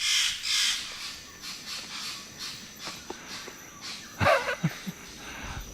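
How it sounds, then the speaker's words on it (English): Birds call in Bornean jungle at dawn, a few loud harsh crow-like caws close by, with scattered chirps and bursts rising over a steady background of insects and distant forest calls. "And sure enough, the birds make themselves heard."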